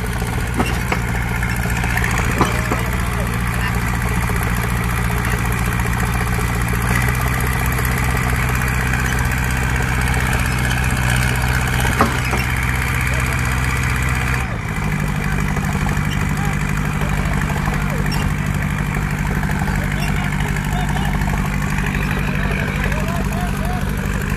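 A John Deere 5050D tractor stuck in mud runs its engine in a steady, loud, close idle with constant low rumble and vibration throughout, while voices talk faintly underneath.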